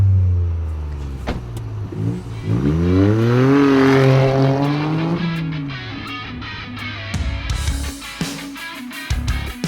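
A Toyota GR Yaris fitted with an aftermarket exhaust drives past, engine note rising loud as it nears, a clear Doppler sweep, then fading off into the distance.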